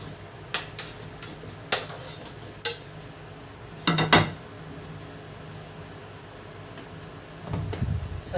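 Fish is added to a pot of simmering vegetables including okra and radish, with several sharp clinks of metal utensils against the pot and a longer clatter midway, close and otherwise quiet.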